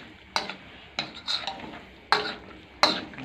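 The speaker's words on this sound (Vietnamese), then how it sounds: "Cái thịt bò này mình xào cho nó tái mặt rồi mình cho các thành phần này vào, mình đảo vài phút như đấy thôi" Beef and mixed vegetables are stir-fried in a pan, with a utensil scraping and tossing in about five sharp strokes over a soft background sizzle.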